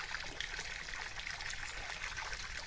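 Water trickles and dribbles steadily through a camping water filtration rig outdoors, a soft continuous splashing stream without pauses.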